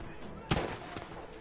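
Sniper gunfire in the Battlefield V video game: a single sharp shot cracks out mid-clip, followed by a fainter second report, over low battlefield ambience.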